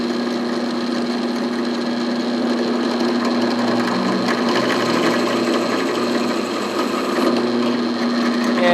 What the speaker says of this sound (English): So I'm going to go ahead and drill that, and I have it on the slow speed